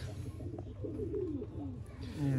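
A Sialkoti pigeon coos in soft, low throaty rolls close by, partly under a man's speech.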